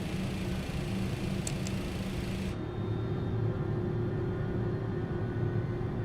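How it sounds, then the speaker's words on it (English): A FedEx MD-11 with GE engines spools up in Microsoft Flight Simulator 2024 with an add-on engine sound pack, heard from the wing as a steady, loud whine and roar that shifts character partway through, with no talking. "we'll listen to this engine start from a wing view as well"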